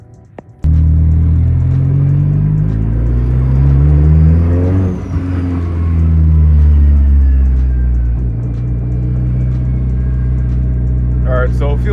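A BMW E30 with a turbocharged K24 engine and one-piece driveshaft starts up and revs, rising and falling in pitch as it accelerates, loud and close, with a brief clatter near the end.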